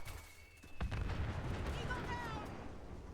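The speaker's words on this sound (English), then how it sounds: "I'm carpet bombing this whole place" Carpet-bombing explosions in a video game: a sharp blast near the start gives way to a sustained rumble of overlapping booms, with voices talking over the barrage.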